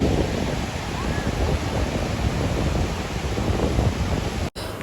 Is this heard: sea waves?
yes